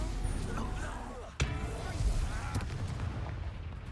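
A Confringo fire-blast spell cast in Hogwarts Legacy, heard as a sharp blast that fades under steady game background noise and a speaking voice.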